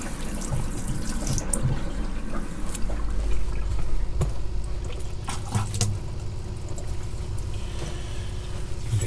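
Tap water running steadily into a motorhome fresh water tank, a continuous soft rushing and gurgling fill with faint splashes and clinks, fairly quiet and uninterrupted.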